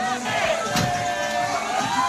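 Crowd cheering and shouting in celebration after India's T20 World Cup cricket win against South Africa, a loud, sustained mass of voices with whistles and yells, close and continuous.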